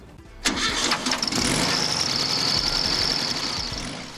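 A 1968 Volkswagen Beetle (Fusca) engine cranks and catches, then revs loudly and holds a steady, rough, air-cooled roar up close with a brief high squeal.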